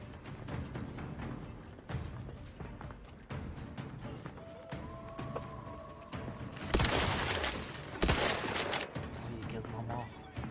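Repeated blasts and gunfire burst from a battle in Outer Worlds 2, with loud broadband explosions near the middle amid scattered shots and clatter, while voices talk over the action.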